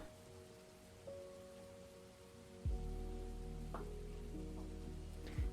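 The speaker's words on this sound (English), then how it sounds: "Every time I hear your rain background noise, I look out my window and I'm once again bamboozled." Rain background noise running on a game development stream, a steady hiss of rainfall on a surface with soft tonal hum beneath, growing louder partway through, with no voices.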